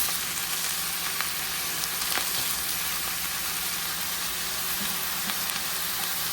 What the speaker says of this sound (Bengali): পেঁয়াজ রসুন হালকা একটু লাল হয়ে গেলে আমি এতে শাকগুলোকে দিয়ে দিচ্ছি।